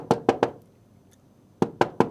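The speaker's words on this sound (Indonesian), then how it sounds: "Lu ketok langsung kedengeran kekopongannya." Knuckles rap the hollow plastic back panel of a Samsung S34A650U monitor: three quick, sharp knocks, a short pause, then three more, close and loud with no talking.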